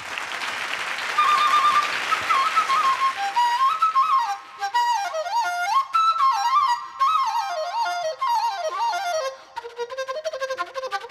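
Bamboo flute played on a televised variety show, a breathy opening giving way to a quick, lively melody of rising and falling runs, close and prominent with brief pauses between phrases and no talk.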